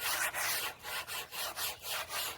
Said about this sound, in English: I am hand sanding just because I don't want to overdo it